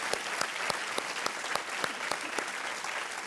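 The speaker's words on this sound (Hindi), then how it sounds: "मैं चाहता हूं कि जोरदार तालियों के साथ यूसुफ का एक बार फिर से अभिनंदन किया जाए" A television quiz show studio audience, on Kaun Banega Crorepati, claps for contestant Yusuf with dense, steady applause that holds at an even level throughout and has no talking over it.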